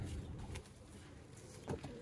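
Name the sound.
Sialkoti roof pigeons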